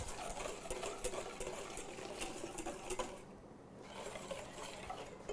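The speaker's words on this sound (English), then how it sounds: "So just stream that in while whisking." Wire whisk beating liquid in a bowl while more liquid is streamed in for canelé batter, a quiet rapid rhythmic clicking and swishing that runs close throughout, pausing briefly midway.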